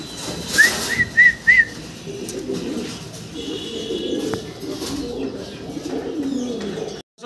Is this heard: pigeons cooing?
yes